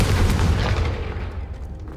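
Confringo blasting spell going off in the Hogwarts Legacy video game: a loud, deep explosive boom with a rumbling low-end burst that slowly decays over about two seconds.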